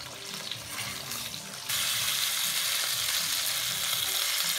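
Chopped jalapeño dropped into a pan already frying peppers and onion, a close steady sizzle that jumps to a louder, brighter hiss partway through and holds.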